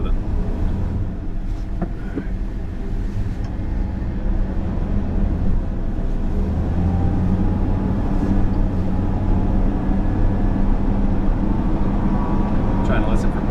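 A 1980 Ford 302 V8 in an old truck idles steadily up close, a continuous low rumble with a constant hum and no break across the whole stretch.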